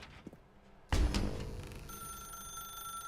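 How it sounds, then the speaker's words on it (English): A telephone rings loudly in the video game The Stanley Parable. The sharp bell-like onset arrives just under a second in, then a sustained ringing tone continues to the end with no talking. "Now pick up the phone."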